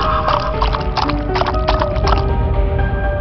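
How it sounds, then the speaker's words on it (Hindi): Cartoon horse hooves clip-clop in a quick, steady rhythm close by, with brief whinnies mixed in over a constant background. "गुल्ली बुल्ली घोड़े पर जाने के लिए बैठ जाते हैं"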